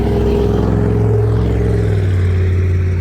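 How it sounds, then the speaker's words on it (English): Road traffic passes close by in a garden, a car engine rising and falling as it goes by, loud and steady throughout the whole stretch. "Sorry for the traffic, it's a little noisy here"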